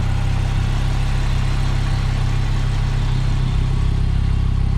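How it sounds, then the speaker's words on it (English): A stock 8.4-liter V10 in a 2008 Dodge Viper ACR idles with a loud, deep, steady rumble, close and unbroken, with no talking over it. "Car is running, so I can show you the dash in a second."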